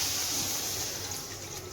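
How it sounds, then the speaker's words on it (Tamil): Cooking water from boiled lentils pours into a pan of sautéed vegetables for sambar, a soft, steady rushing splash that holds evenly for a moment and then thins a little. "அந்த தண்ணியை ஊற்றினா இன்னும் டேஸ்ட்டாக இருக்கும்"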